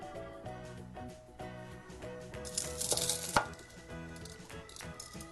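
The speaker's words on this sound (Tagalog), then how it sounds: "Naririnig niyo yun, no? Nako, napakalutong." Crispy oven-roasted pork belly skin chopped with a knife, lechon kawali style, giving sharp crackling cuts at an irregular rhythm with a louder crunchy burst midway, close and over faint background music.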